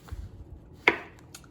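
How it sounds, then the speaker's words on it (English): A knife slices a banana on a cutting board, giving a few soft low taps and then one crisp, clear chop near the end, close and quiet with no talk. "we are going to slice it into thin little slices"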